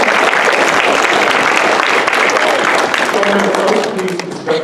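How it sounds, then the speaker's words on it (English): Loud, close applause from a concert audience at a college orchestral event fills the space for about four seconds before thinning out, with voices audible beneath the clapping. "Give her a big applause."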